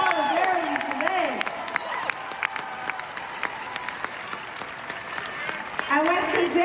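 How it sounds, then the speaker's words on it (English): Applause from a protest crowd gathered in solidarity with local businesses during an ICE protest, steady and fairly loud for the full length, with cheers and voices rising over the clapping toward the end. "Give them a round of applause."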